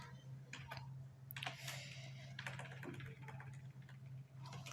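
Quiet, rapid typing on a computer keyboard while entering C++ code, with irregular bursts of close clicking keystrokes and short pauses over a steady low electrical hum.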